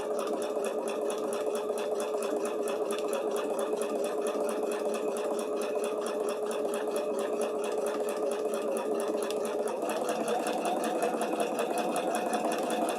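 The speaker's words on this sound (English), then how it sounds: "I'm just sewing along that circle" Sewing machine stitching along a circle with very light presser foot pressure: a continuous, fast, even mechanical whirr with a rapid ticking rhythm, close and steady for the whole stretch, pitch shifting slightly near the end, with no talking.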